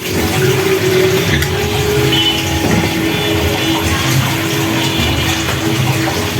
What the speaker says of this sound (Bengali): এখন আমি এই যে রাত্রে যা ছিল খাওয়ার পর সব প্লেট বাসন ধুয়ে রাখতেছি